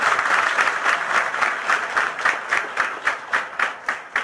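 Loud audience applause at a tribal youth exchange program gathering, dense clapping that turns into a rhythmic, unified beat as it goes on, close and strong throughout.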